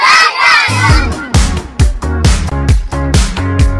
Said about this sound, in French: Applaudissez pour Youpi! Youpi! Youpi!